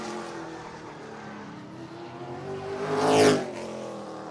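Race cars lap a speedway oval, the engines droning in the distance before one car roars past close by with a rising and falling rev, then fades away.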